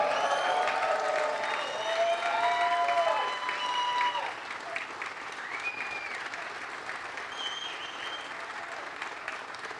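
A large crowd of graduates at an Army War College graduation ceremony gives a sustained round of applause that rises in the first few seconds, then slowly thins out. Scattered voices are heard through it.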